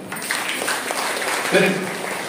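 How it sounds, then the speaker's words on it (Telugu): Audience at a spiritual satsang in honour of Sai Baba at Sri Sai Dharmakshetram breaks into sustained clapping from a crowd, with a voice speaking over the applause. "మనం గర్వంగా చప్పట్లు కొట్టుకుందాం"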